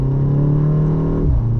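A 2025 BMW M235 Gran Coupe with a dual-clutch gearbox accelerates from inside the cabin, its engine a steady loud drone that drops in pitch at a quick upshift near the end.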